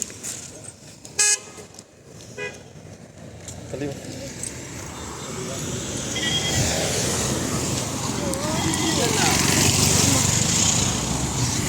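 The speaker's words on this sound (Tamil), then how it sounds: "வண்டி வருது." A vehicle comes along a road near the Silver Falls parking area: quiet at first with a short horn toot, then a broad engine-and-tyre rumble swells and stays loud through the second half. People talk early on.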